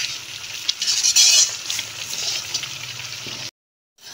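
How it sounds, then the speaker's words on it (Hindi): A spoon stirring semolina halwa in a pan: soft scraping and a light sizzle run continuously for several seconds, brighter near the start, then stop abruptly. "इसमें हम लोग चम्मच चलाते जाएंगे ताकि सूजी नीचे ना लगे और ना जले"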